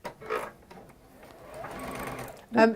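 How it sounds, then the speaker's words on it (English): A new sewing machine stitches fabric in short bursts, a brief whir, a longer steady run, then a loud final burst, close by, with a voice faintly in the background. "I'm basically going to sew 1/4 inch either side of that line. On the new, with the new sewing machine."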